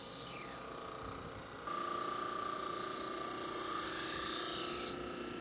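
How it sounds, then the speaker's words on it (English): A steady, high-pitched mechanical whir of a drum sander sanding walnut inlays flush, droning continuously with a slight shift in pitch partway through. "So here's another handy task for the drum sander."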